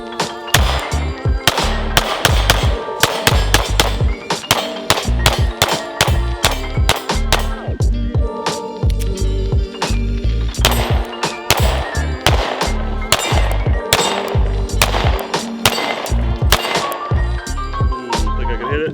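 Rapid Sig Sauer Macro pistol shots ring out at a steel target outdoors, dozens of sharp loud cracks in quick strings and bursts with brief pauses, some followed by metallic clangs of hits.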